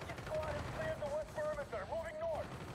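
Fast, faint automatic gunfire from a gun in the video game Call of Duty: Black Ops, a steady rattling burst running under a voice talking throughout.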